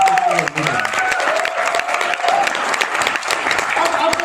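Loud audience applause at a motivational seminar, a dense continuous roar of clapping with some crowd noise and a few cheers, and a voice briefly audible near the start.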